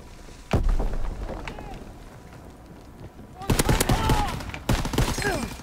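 Gunfire in the multiplayer video game Call of Duty: WWII cracks out in a single loud shot, then rapid bursts of automatic fire, close and punchy over game noise, with a voice talking throughout.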